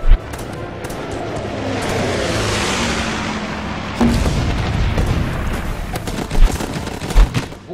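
Bombing run in the video game Guns Up!, a sustained roar of blasts and rumbling booms with a sharper hit midway, then scattered crackling impacts and a couple of closer bangs.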